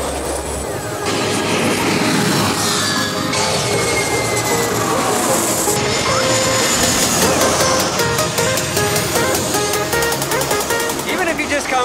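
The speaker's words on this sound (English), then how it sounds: "Here comes a little tiny baby plane." A small airplane comes in to land at the Saint Martin airport, a loud, steady engine roar close overhead with wind noise, while people talk over it.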